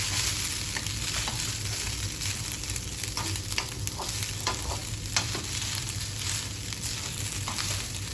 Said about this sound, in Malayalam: ആ ചിക്കനും കൂടി എടുത്ത് നമുക്ക് നല്ലപോലെ ഒന്ന് മിക്സ് ചെയ്ത് വെക്കാം.